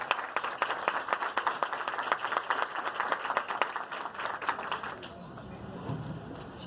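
Audience applause at a women's entrepreneurship seminar in Ribeirão Preto, a dense room of clapping hands with distinct sharp claps, steady for several seconds before fading out as the room settles and a voice begins.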